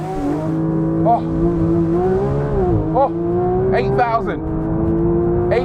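A Porsche 911 GT3 Touring, rear-engined and rear-wheel drive, accelerates hard in track mode. Its engine wails loudly and climbs steadily in pitch, with brief dips at the gear changes before it surges again.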